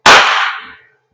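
An Umarex Walther PDP Compact airsoft pistol fires a single sharp, snappy shot, loud and close, with a short fading ring afterwards.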